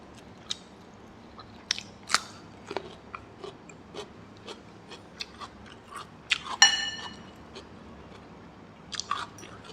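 Someone eats a Thai omelet with fresh cucumber, with close, irregular crunchy bites and wet chewing over a quiet background.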